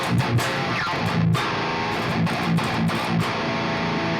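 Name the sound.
distorted guitar through David Maxim Micic amp plugin, default settings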